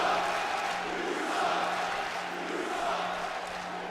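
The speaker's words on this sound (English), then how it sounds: "Crowd letting Roman Reigns know how they feel" A wrestling arena crowd in the WWE 2K18 video game keeps up a steady, dense murmur and roar at moderate volume throughout, with no clear swells or cheers standing out.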